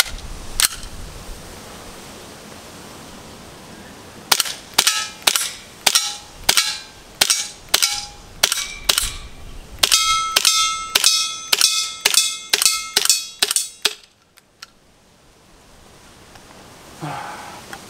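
An airsoft Desert Eagle CO2 gas blowback pistol fires about twenty sharp, loud shots in a steady rhythm, each with a metallic slide clack, then falls silent as the magazine empties, leaving faint background hiss.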